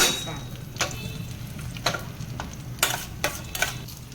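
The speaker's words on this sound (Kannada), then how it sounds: "ಸ್ವಲ್ಪ ಫ್ರೈ ಆದರೆ ಸಾಕು, ಜಾಸ್ತಿ ಬೇಡ. ತುಂಬ ಫ್ರೈ ಆದರೆ ಅದು ಕಪ್ಪಾದರೆ ಕಹಿ ಬರ್ತದೆ." A pan sizzles softly and steadily while a utensil lightly stirs, scraping and clinking against the metal a few times at irregular intervals.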